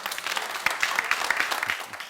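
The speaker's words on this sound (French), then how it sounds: "Je vais vous demander de faire un tonnerre d'applaudissements pour Rabak Mwaga." Brief audience applause on a television entertainment show, a dense burst of clapping with a few sharper individual claps standing out.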